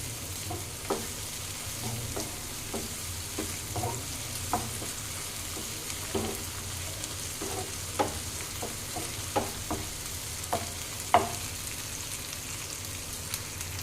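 Ginger-garlic paste fries in a pan for paneer butter masala, with a soft steady sizzle broken by repeated scraping strokes of a spoon stirring it, close and fairly quiet, no voices.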